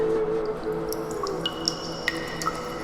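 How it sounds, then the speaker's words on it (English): Water drips from limestone icicles in a cave, a few clear separate plinks ringing out at uneven intervals over a low, steady background hum. "every drip from the cave lime icicles"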